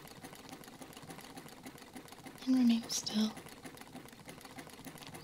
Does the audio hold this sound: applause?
no